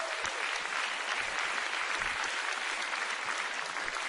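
Applause fills a hall during an Indonesian presidential inauguration ceremony at the MPR building, a dense, continuous roar of many hands clapping at even loudness throughout, with no pauses.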